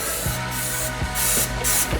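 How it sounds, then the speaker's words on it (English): A spray bottle of Dawn Power Wash fires several quick, close hissing spritzes in a steady rhythm onto a BBQ exterior. "Simple little spray of this."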